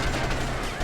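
A brief, dense burst of rapid gunfire from a video game, loud and close, lasting under a second.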